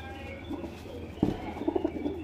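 A male Lalchina pigeon coos at close range, giving a few soft, low, throaty coos in quick succession against a quiet background.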